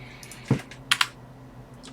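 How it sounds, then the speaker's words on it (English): Keystrokes on a computer keyboard while entering a terminal command, a few quick clicks in two small bursts, close and moderately quiet against a faint steady hum. "Let's type in the full command."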